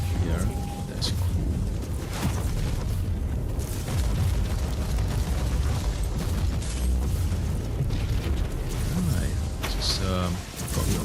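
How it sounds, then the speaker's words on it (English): Explosions in the video game Warhammer 40K Inquisitor, dense rumbling bursts and crackling debris layered over continuous combat noise, with a player talking over the action. "Bit of explosion, don't get near."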